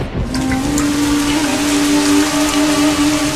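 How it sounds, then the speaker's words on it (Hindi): Steady rain hisses continuously, with a sustained low tone running underneath. "बारिश आ गई जैसा कि हमने सोचा था।"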